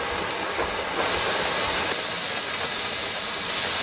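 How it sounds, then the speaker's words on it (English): A pressure canner loaded with potatoes vents a strong, steady jet of steam, a loud continuous hiss that jumps up after about a second and then holds constant throughout. "Okay, so now it just started blowing out a good steam."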